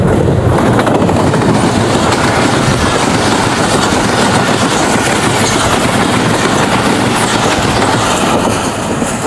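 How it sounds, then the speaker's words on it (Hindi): A short passenger train rushes through a level crossing at speed, a loud, close, continuous rumble of wheels and carriages with faint rhythmic clatter and no pause. "छोटी सी ट्रेन थी ये और थ्रू पास करके चली गई लेवल क्रॉसिंग को"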